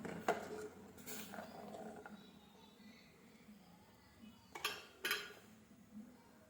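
Spoon scrapes and clinks against a cooking pot as sugar is stirred in, a few sharp metallic taps and soft scraping, quiet and close.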